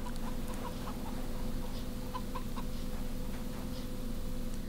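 Clucking chickens in the video game CHKN, repeated faint soft clucks and small pattering sounds spread across a constant low droning background, no voices.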